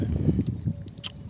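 Chandlai Lake water near Jaipur flows and laps gently in a brief, soft outdoor wash, with a light murmur of breeze.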